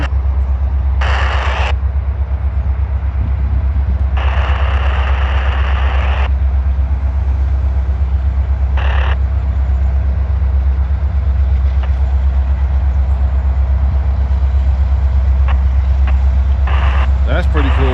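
A railroad locomotive produces a heavy, steady diesel rumble close by, loud and unchanging throughout, with a few short bursts of hissing noise on top.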